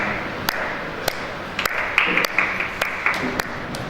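Sparse audience clapping in a lecture hall at a talk on finding one's dharma, with a few isolated sharp claps spaced out over a low room murmur, fairly faint and irregular.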